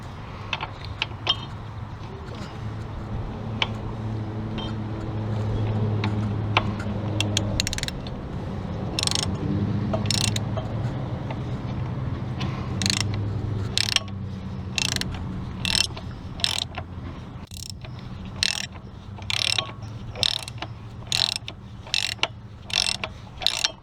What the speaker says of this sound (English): getting ready to take this tie rod bolt off. It's an 18mm.